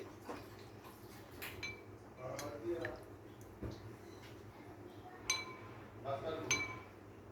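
A metal spoon clinks against a cup while stirring saffron soaking in warm milk for chicken biryani, several light scattered taps under someone talking.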